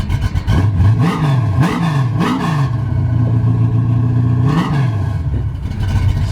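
A 1980 Chevrolet C10 Scottsdale restomod pickup with a 383 stroker V8 revs loud and close, several sharp throttle blips rising and falling before a steady high hold and one more rev, with no talking.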